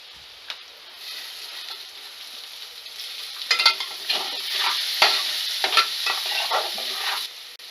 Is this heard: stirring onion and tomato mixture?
yes